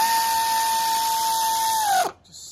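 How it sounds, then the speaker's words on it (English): An air tool snugs down starter bolts with a sustained high whine that drops in pitch and cuts off, followed by a brief faint hiss, heard up close. "snug these down with the air tool"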